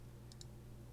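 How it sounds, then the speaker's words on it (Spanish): Two quick, faint clicks of a computer mouse at a desk while working in the Unity editor, close together against a steady low hum. "Vamos a simplemente hacer clic en esta casilla."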